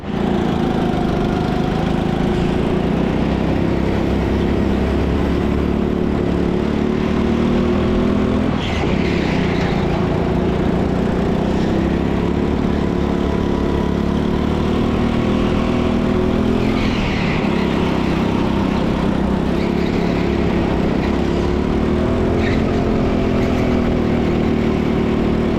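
Indoor go-kart engine at TeamSport Leicester racing around a track, a close, loud buzzing drone that rises and falls in pitch through corners and straights, with a few sharper revving swells.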